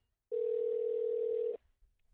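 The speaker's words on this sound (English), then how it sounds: "At the tone, please record your message." A single steady electronic beep of about a second on a phone call, the voicemail tone before recording starts, clear and alone against near silence.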